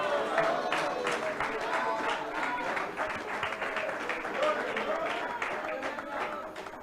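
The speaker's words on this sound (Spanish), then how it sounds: "Denle un aplauso al Señor en esta" A church congregation claps in praise during a Spanish-language service, a busy, moderately loud patter of hands mixed with voices and shouts throughout.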